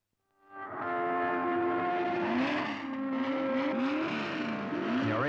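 Race cars at Brands Hatch roaring close by, engine notes rising and falling in pitch as they rev and pass, loud and distorted, without speech.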